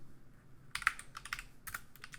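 A search being typed on a computer keyboard, a short burst of quiet keystrokes in two clusters after a near-silent start, fairly faint and alone.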